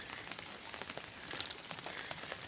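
Monsoon rain falls in a Konkan village, a soft, steady patter on surfaces with scattered individual drops, faint and continuous without other sounds.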